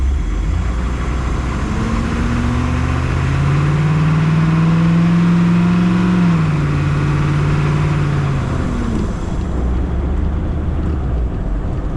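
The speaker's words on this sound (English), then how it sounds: "The idle isn't, you know, all big and chunky and choppy and lopey." A 1987 AM General Humvee HMMWV engine idles smoothly and steadily, a constant low mechanical drone with a slight rise and fall in pitch midway, close and loud with no talking.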